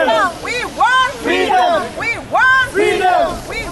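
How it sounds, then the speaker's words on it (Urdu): Protesters outside UN headquarters shout slogans against Modi in loud, rhythmic rising-and-falling bursts, a crowd of voices chanting in unison again and again. "اس موقع پر مودی کے خلاف شدید نعرے بازی بھی کی"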